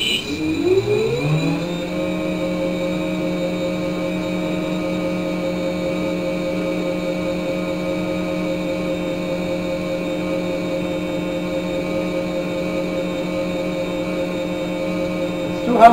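A 20 kW brushless BLDC electric plane motor spools up to half throttle, its whine rising for a couple of seconds and then holding a loud, steady tonal hum with high harmonics, with no speech.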